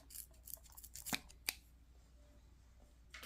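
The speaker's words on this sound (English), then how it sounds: "So I'll just take some scissors and just trim off a piece." Scissors trim a piece off a small scale Toyota 4Runner crawler build, giving a few sharp close snips among quiet handling noise.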